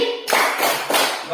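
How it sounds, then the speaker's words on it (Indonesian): Schoolchildren in a classroom clap in unison for the PPK chant, a burst of sharp, close hand claps with a brief pause between groups. "Bapak mengajak anak-anak untuk melakukan tepuk PPK."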